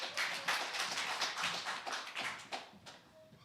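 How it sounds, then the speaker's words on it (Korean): A church congregation breaks into applause, dense overlapping hand claps that stay close and lively for several seconds before thinning out. "자, 박수 한번 치겠습니다."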